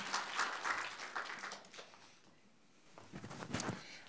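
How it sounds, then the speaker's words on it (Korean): An audience at a university education forum claps, a dense burst that fades to near quiet around the middle, then swells again into a second round of applause. "큰 박수 부탁드립니다."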